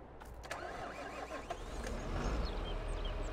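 A Fendt 942 Vario tractor engine starting in a video game: a cranking rumble catches into a steady, low mid-pitched running drone that grows slightly louder toward the end, with faint clicks near the start and no talk.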